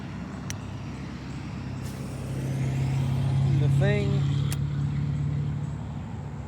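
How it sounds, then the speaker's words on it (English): Road traffic passing a spot where someone is fishing, a steady low vehicle rumble that swells as one car or truck goes by, with a brief squeal like an air brake in the middle. "Sorry about the traffic noise."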